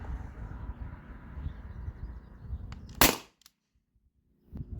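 A modified T4E HDP50 Gen 1 pistol running on 900 PSI HPA fires once. A single sharp, loud crack rises out of a low background rumble and is followed by near silence.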